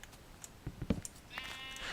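Sheep bleat in the video game Minecraft: a short, quiet blocky bleat, then a thinner bleat fading near the end.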